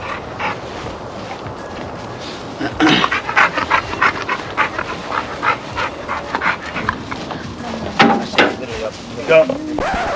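An excited stray dog runs around a backyard, panting rapidly and audibly up close, with shuffling paw steps and faint scuffs around it.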